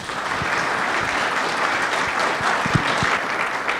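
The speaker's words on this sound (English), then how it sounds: "I want to give a big round of applause for our panelists this morning." Steady applause from a seated conference audience for a water panel at a regional issues summit, with a few sharp individual claps standing out close by over the dense clapping.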